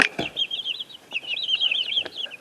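Three-week-old chicks in an enclosure give a rapid run of high, close chirping peeps, nearly continuous over a few seconds, with a brief rustle or wing flap at the start.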